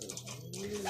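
Pigeons coo softly in a loft, a low burbling call rising at the end, heard close over a quiet background with no talking.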